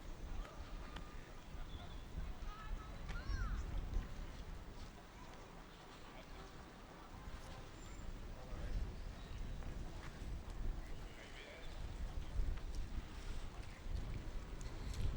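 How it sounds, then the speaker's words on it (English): Strong, harsh wind buffets the microphone in St James's Park in London, a continuous loud rumbling roar throughout with faint background sounds beneath. "If you can tolerate the wind, harsh wind sounds, good."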